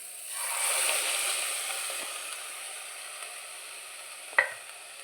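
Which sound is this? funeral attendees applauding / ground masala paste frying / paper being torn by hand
ground masala paste frying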